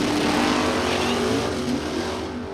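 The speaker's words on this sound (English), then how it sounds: "spins the wheels there" A drag racing car spins its wheels at the start of a bracket race, a loud, close burst of engine roar and tire noise that holds steady and then eases off slightly.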